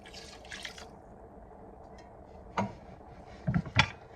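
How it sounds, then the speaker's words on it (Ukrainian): Water is poured into a pot of rice for Korean-style rice before it goes into a rice cooker, with short splashing pours and trickles separated by quiet gaps. "Сюди ми виключно зараз будемо заливати водичку і все. Заливаємо водичку."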